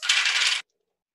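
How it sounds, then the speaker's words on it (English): Three dice roll and rattle together for a tabletop gambling game in a short, bright clatter of about half a second, then stop dead into silence. "Three dice again."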